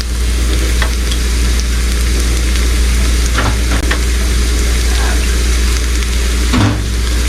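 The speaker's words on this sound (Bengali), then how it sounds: "এখন আমি গার্লিকগুলো দিয়ে দিলাম।" Garlic sizzling loudly in a hot pan with shrimp, a steady dense frying hiss running throughout, broken by a few scraping stirs, close up and with no voices.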